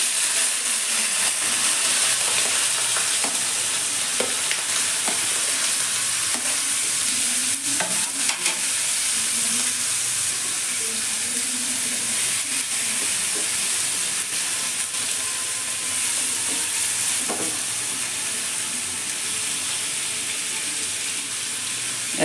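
Cumin, cauliflower and potatoes fry in a pan with a loud, steady hiss and crackle. Occasional stirring clinks and scrapes sound close by over the continuous sizzle, with no speech.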